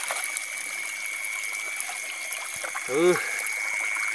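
Hands being washed in running water, a steady trickling and splashing stream heard up close, with a short voice near the end.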